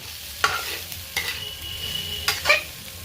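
Onions frying in a pan for soya roast and being stirred, a spatula scraping in a few distinct strokes over a soft continuous sizzle, close up with no talk.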